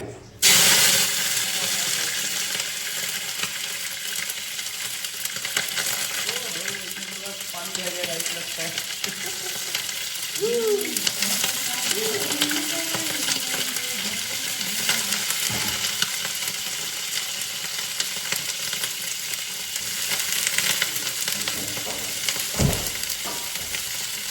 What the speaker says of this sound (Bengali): ব্রকলি আলুর সবজি রান্না হচ্ছে